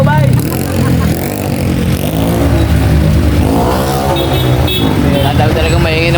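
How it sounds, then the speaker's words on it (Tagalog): A loud motorcycle engine revs close by, its pitch rising and falling in surges over steady traffic noise, with a brief horn-like toot mixed in. "Ang talagang maingin na motor dito."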